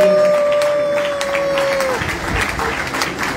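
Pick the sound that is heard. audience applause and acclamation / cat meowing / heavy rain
audience applause and acclamation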